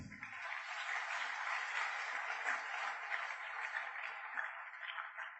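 A church congregation gives the Lord an ovation, its steady, dense applause continuing at an even level throughout, slightly distant and with no speech over it.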